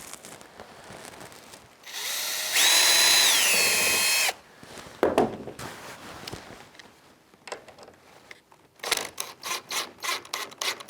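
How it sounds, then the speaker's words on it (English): A power drill bores a 2mm pilot hole into wooden pieces of a pedal car build: a motor whine of about two seconds under load, then scraping and a burst of rhythmic rubbing strokes near the end. "I'm going to drill a 2mm pilot hole to alleviate any possibility of"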